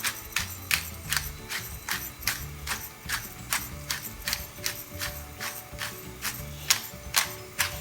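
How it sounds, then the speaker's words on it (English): Cracked black pepper ground from a pepper mill over a pancetta and mushroom carbonara, a steady run of close, crisp ratcheting crunches repeating at an even pace, alone with no talk. "I'm going to fire in some cracked black pepper"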